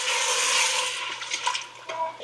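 Milk poured into a butter and flour roux in a pan, a steady liquid gush that thins and sputters into a few splashes after about a second, close and moderately loud with no talking.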